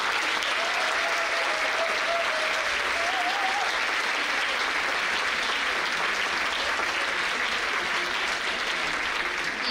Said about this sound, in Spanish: les vamos a dar un doble aplauso a quienes están acá